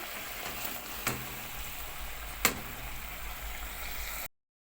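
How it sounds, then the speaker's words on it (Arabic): Rice poured into a pot of boiling water while cooking sayadeya rice, a steady bubbling sizzle with two brief clinks or splashes, close by, then silence. "خلاص كده المية غلت. هننزل بقى بالرز بتاعنا."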